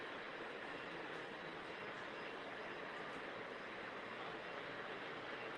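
Model trains run on a large modular layout at a club event held in a church hall, producing a steady, dense rumble and whir of wheels and motors that carries evenly throughout without pauses.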